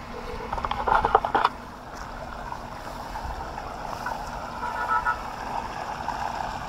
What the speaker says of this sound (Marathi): असं इकडनं इकडं पडतं पाणी